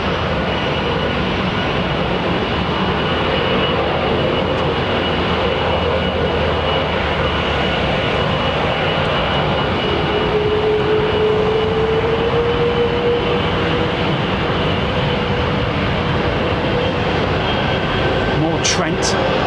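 A Boeing 777 with Rolls-Royce Trent engines at London Heathrow gives a steady, broad jet roar that holds for the whole stretch, with a faint rising whine partway through and voices under the engine noise.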